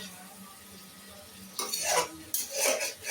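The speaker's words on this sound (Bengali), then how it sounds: "সমস্ত মাংসটা ভালোভাবে নাড়াচাড়া করে কষাতে হবে যাতে প্রত্যেকটা মাংসে ভালোভাবে মশলা ঢুকতে পারে" Chicken pieces with spices stirred and scraped in a metal pan, quiet sizzling at first, then two loud bursts of spoon-against-pan scraping and clattering close by.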